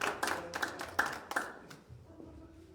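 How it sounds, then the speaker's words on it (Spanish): Scattered audience clapping welcoming a speaker at a formal conference event, several separate sharp claps in the first half, fairly quiet, thinning out into near silence. "a quien les pido que podamos recibirlo con un fuerte voto de aplausos."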